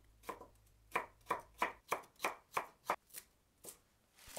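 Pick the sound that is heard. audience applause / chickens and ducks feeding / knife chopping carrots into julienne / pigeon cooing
knife chopping carrots into julienne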